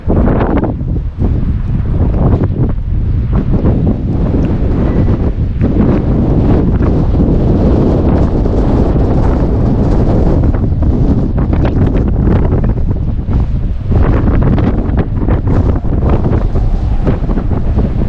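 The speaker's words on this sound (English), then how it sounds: "It's pretty windy out here." Strong gusty wind buffets the microphone in a constant loud roar, with the wash of sea water faintly underneath, on the coast at Bar Harbor, Maine, in December.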